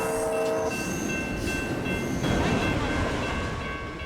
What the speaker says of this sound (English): this train plus Amtrak 729 Capital Corridor had to clear the pass